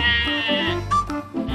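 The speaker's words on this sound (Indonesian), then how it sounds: "ternyata seekor kambing." A goat bleats in several short, wavering calls, loud and close, with no one speaking over it.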